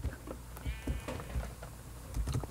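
Sheep bleat from a video game, a few short bleats over a low game-audio background.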